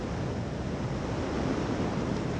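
Wind rushing past during a parachute freefall, a loud continuous roaring hiss that holds steady throughout with no voices.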